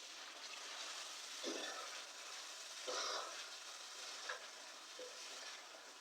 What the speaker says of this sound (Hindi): चिकन भी भून चुका है